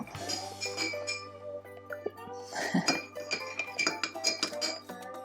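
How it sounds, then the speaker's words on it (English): A spoon stirs a rose cardamom latte in a cup, making light, quick clinks of metal against ceramic in an uneven rhythm, close and fairly soft. "But if you do not, a good old spoon and a nice stir will do."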